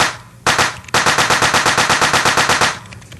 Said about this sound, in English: we need the crappy drum sort of fill before we bring back crappy sounds